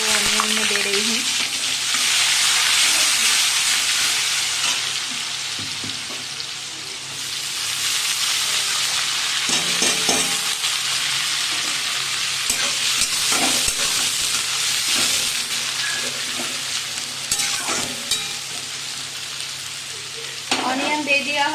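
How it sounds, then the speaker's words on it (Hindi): Chopped onions hit hot oil and spices in a pan at home, producing a loud, steady sizzle that runs the whole time, with occasional scrapes and stirring knocks and no talking. "अब जो ऑनियन यहाँ पे काट के रखा था वो ऑनियन में दे रही हूँ।"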